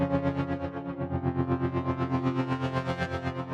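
A sustained chord from a Repro synthesizer preset for melodic techno, rich and pulsing with a steady wavering modulation, playing alone at moderate level.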